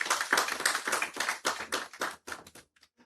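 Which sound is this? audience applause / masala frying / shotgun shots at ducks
audience applause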